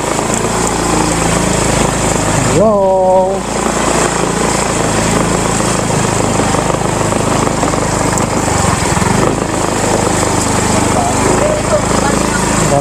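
Tourists' motorcycles at Wawa Dam in Montalban, Rizal give a steady, loud engine drone that fills the whole scene, with a short greeting voiced briefly over it.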